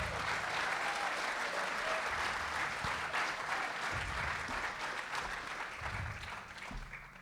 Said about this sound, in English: Let's give those 2 a round of applause and have them come on up.